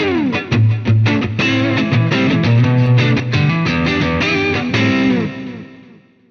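Electric guitar through a Tube Screamer overdrive, delay and reverb, recorded via an Orange OMEC Teleport audio interface, strums a driving riff with echoing repeats and a spacious reverb wash that lingers as the final chord fades.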